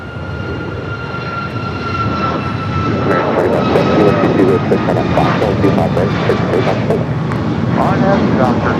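Airliner engines roar steadily on the runway at LAX, loud and near, building slightly over several seconds, with a voice talking over the noise.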